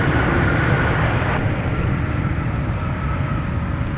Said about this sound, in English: that was a beautiful arrival there from Sun Country Airlines